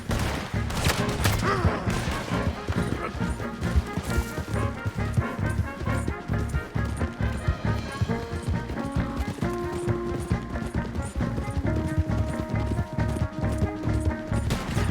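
Rapid, dense gunfire from a Red Dead Redemption 2 shootout, crackling volleys of shots throughout over game music, with galloping hooves mixed in.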